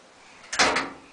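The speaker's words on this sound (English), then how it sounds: "Shut the door." A washing machine door shut during a laundry load, a short muffled thump with a brief rattle, close and fairly loud, with nobody talking.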